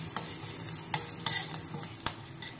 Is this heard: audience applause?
no